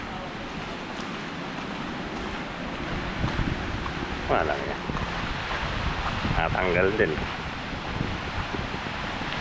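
Steady wind roar buffets the microphone over a broad wash of surf on a beach at Balagbag, while people talk briefly in the foreground.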